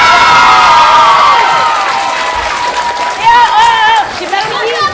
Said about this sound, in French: On applaudit Marie-Jo.